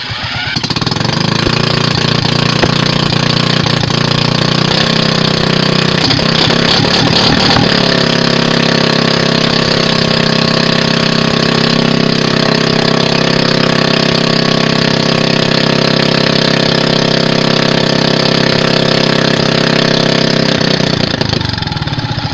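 A small homemade gas scooter engine runs loud and close with a rapid, buzzing, hammering chatter, settling into a rough, unsteady idle for about twenty seconds before winding down at the end.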